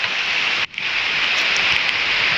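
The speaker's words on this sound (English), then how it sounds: "Anyway, enjoy the rain." Steady, dense rain pours continuously with a broad hiss, briefly dipping for a moment before resuming at full strength.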